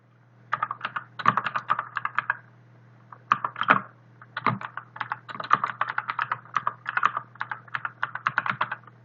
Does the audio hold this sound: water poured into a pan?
no